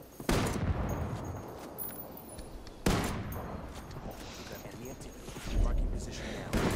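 Heavy gunfire in a Ghost Recon Wildlands PvP match with a tank in play: loud bursts of shots and blasts in repeated waves across the clip, with voices talking over parts of it.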